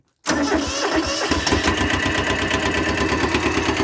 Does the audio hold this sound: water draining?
no